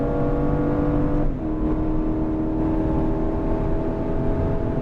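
A car accelerates hard at full throttle along a straight of the Miami Grand Prix circuit, its engine pitch climbing in a sustained loud whine after a brief dip near the start.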